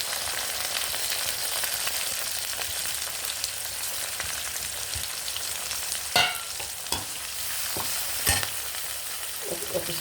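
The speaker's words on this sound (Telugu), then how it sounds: "ఈ ఉల్లిపాయ ముక్కలు వేసేస్తున్నానండి." Onion pieces sizzling and frying in a pan, a steady crackle with several sharp scraping strokes of stirring toward the end, close and fairly loud.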